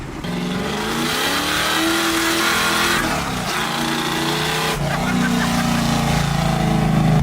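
A refurbished car's engine idles high and revs steadily for several seconds, rising in pitch at a few points, loud and close with no talk.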